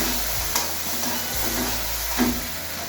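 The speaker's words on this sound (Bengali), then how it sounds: "মশলাগুলোকে এক এক করে কষাচ্ছি।" Ground spices and slit green chillies sauté in a pan for a spicy hilsa curry, a steady close sizzle broken by a few scraping stirs.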